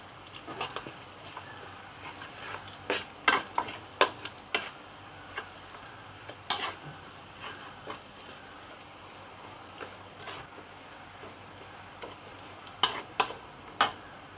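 Curry leaves and spices fry in a pan for dry curry mud crabs, a faint steady sizzle broken by scattered sharp clicks and scrapes of stirring.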